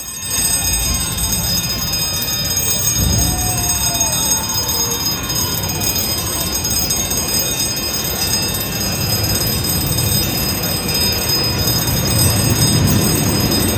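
A steam train, CP&LE #44, rumbles steadily into a station with a high metallic whine and a brief squeal from the wheels, loud and continuous throughout, with no bell or whistle standing out.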